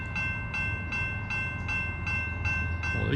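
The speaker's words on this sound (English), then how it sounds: "here comes the train" Crossing bells clang in a steady rhythm, about one strike every half second, at a railroad crossing as an eastbound double-stack intermodal freight train approaches, over a low rumbling background, moderately loud and without talk.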